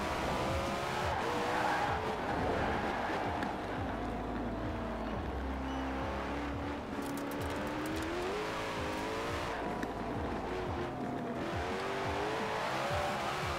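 A Koenigsegg in Forza Horizon 4 slides and skids, tires squealing in wavering drawn-out tones over a constant loud engine roar that rises and falls as the car twitches through corners.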